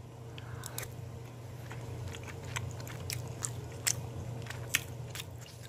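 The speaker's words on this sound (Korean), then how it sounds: "숭어 껍질이랑 같이 해서 다시 먹어볼게요." Raw mullet eaten with its skin on gives close, quiet crunchy bites and wet chewing, with scattered crackles over a low steady background hum and no voices.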